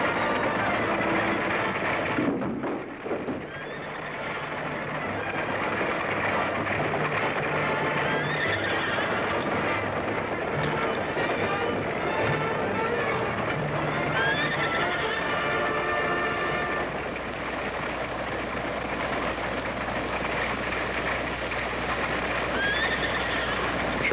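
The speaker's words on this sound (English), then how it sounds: "That means they're Johnson's horses" A herd of horses on an open ranch setting, whinnying and neighing repeatedly at moderate distance over a steady, dense background rumble of movement, with no speech.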